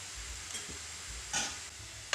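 A quiet, steady sizzle of carrots stewing in a pan with a spoonful of fish broth, with a brief stirring scrape in the middle.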